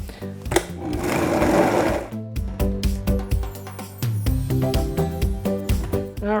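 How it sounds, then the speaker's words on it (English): A blender runs loud and close, whirring cherries and lime juice for cherry cream popsicles. A steady grinding roar lasts about two seconds, then breaks into a pulsing, uneven churn as the fruit mixture spins. "now we just blend up our cherries and the lime juice"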